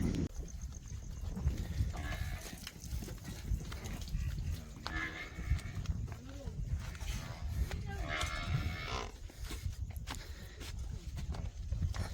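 A herd of buffaloes moves along a forest track in Gir, with faint scattered hoof clops, occasional lowing and rustling at a distance, all quiet and continuous.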